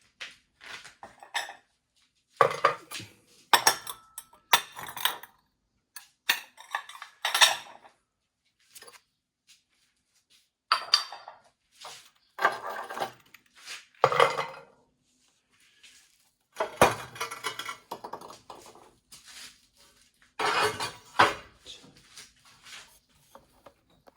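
Small 15 cm ceramic plates, fresh from a kiln firing, clink and clatter in repeated bursts, with short pauses between handlings; close and fairly quiet, no talking.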